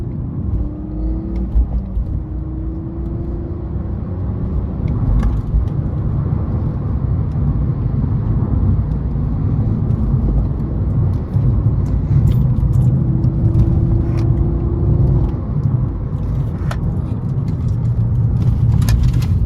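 A BMW E46 engine drones steadily and loudly as the car drives on back roads, its pitch rising and falling a few times with throttle, with no talking.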